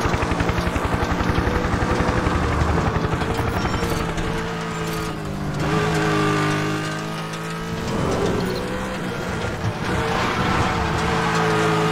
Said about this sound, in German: Oh, jetzt auch noch ein Helikopter.